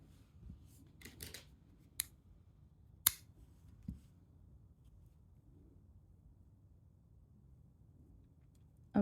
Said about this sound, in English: Now I will cut the thread.